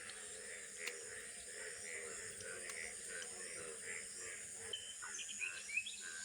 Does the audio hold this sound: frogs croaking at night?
yes